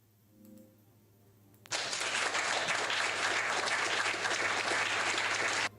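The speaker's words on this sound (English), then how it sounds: "Claps." A crowd bursts into loud, sustained clapping applause that starts abruptly after a quiet moment and carries on steadily for about four seconds before cutting off.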